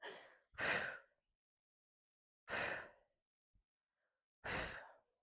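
Heavy exhaled breaths blown close into a microphone during a postpartum exercise workout, three loud, rough gusts spaced about two seconds apart with silence between.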